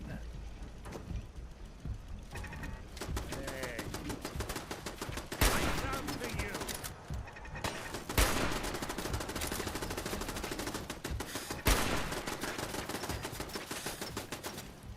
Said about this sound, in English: Oh, I hear a turret.